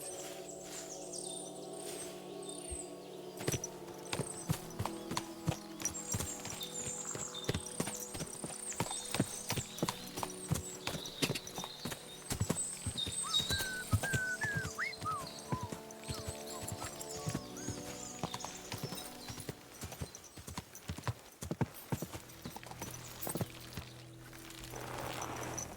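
A horse's hooves clip-clop steadily along in the medieval game Kingdom Come Deliverance II, a continuous, even rhythm of hard strikes with birdsong chirping faintly in the background.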